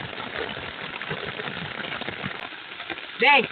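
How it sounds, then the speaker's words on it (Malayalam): Rain pours steadily in a dense, even hiss, with faint voices underneath and a short vocal sound at the end. "ഇത് ഭയങ്കര മഴയടാ"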